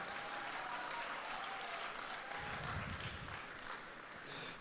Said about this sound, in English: They are clapping, and 2 people were leaving.